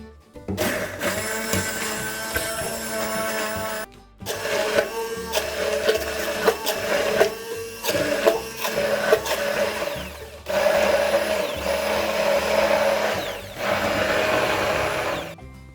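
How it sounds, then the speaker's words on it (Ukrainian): An immersion blender whirs loudly in repeated bursts blending spinach, its motor pitch shifting as it chops, with brief pauses between runs. "Шпинат збиваємо погружним блендером"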